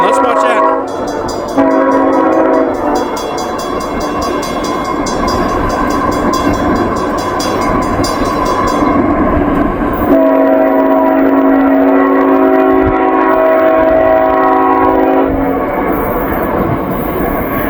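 A freight train passes near the Union Road crossing, a loud, close rumble of rolling wagons with sustained tonal warning sounds over it.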